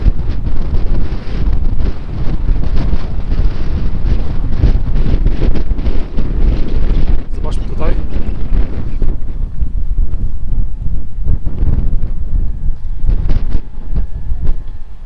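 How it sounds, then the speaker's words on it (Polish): Strong wind on a rocky Cornish coast near a castle on a rock roars loudly and continuously, buffeting the microphone with heavy rumbling gusts for the whole stretch. "ale tak wieje"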